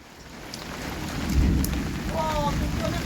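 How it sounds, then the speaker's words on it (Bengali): Heavy rain and rolling thunder in a strong wind during a storm in Medinipur, a loud, continuous roar that swells to a deep rumble midway and stays dense to the end. "এই বৃষ্টির থেকে বেশি বাতাস হচ্ছে জোর, এই জন্যই যত ঝামেলা হয়ে যাচ্ছে। কি যে হবে, বাজও পড়ছে।"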